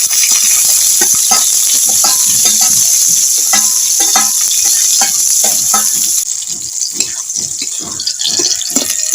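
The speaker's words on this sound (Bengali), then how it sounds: "পেঁয়াজটা ভাজা হয়ে গেছে," Onions frying in oil in a pan alongside green chillies: a close, loud hissing sizzle with repeated stirring clatter, easing slightly toward the end.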